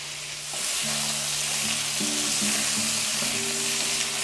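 Chicken pieces sizzle and fry steadily in a pan, a loud, continuous crackle with soft scraping as they are moved around, and no talking.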